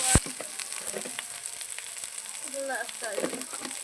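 Potato and egg curry stirred in a pan, with a soft frying hiss under a sharp clank at the start and faint scraping strokes.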